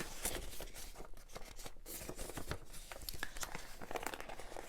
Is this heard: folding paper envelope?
yes